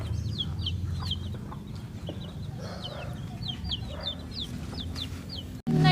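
Sasso chickens, a hen with a rooster, cluck on a farm. Short, repeated clucks rise over a low, steady background hum, fairly close, and are followed by a sudden thump at the end.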